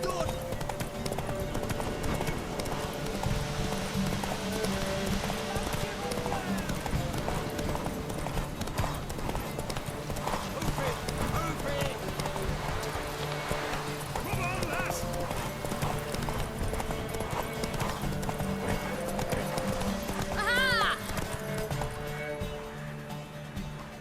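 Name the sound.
horse galloping in video game The Witcher 3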